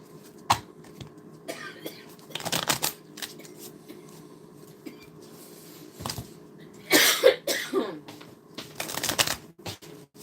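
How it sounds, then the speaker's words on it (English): A deck of playing cards used for a Strat-O-Matic baseball tabletop game is shuffled in several rough, riffling bursts spread across the stretch, with a cough and low background murmur between them. "Please do not mention my card shuffling technique"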